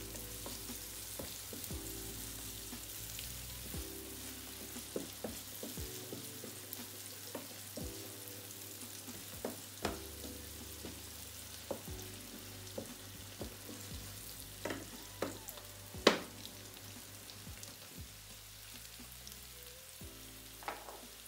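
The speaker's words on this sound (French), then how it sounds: "Mélanger le tout." A sweet potato and tuna mixture seasoned with curry and paprika, stirred in a pan with a quiet sizzle beneath irregular knocks and scrapes of the spoon, one sharper clack standing out near the end.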